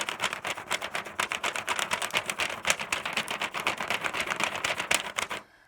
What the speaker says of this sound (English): take your drawing object and begin to rub